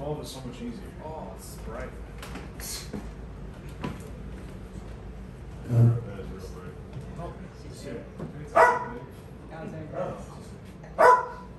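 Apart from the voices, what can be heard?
dogs barking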